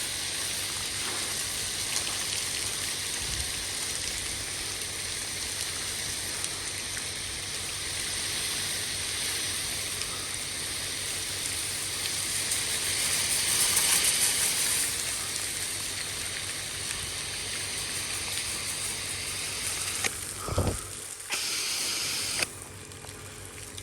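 Water from a 24V 10GPM pump rinses down over pine pavers. It makes a steady, even, close spray-like hiss that continues without pause, with a brief clunk near the end.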